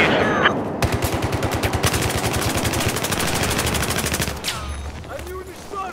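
Machine gun fire in the Battlefield 4 video game rattles out as rapid, evenly spaced bursts, loud and close, running for several seconds before stopping, with faint background game sounds.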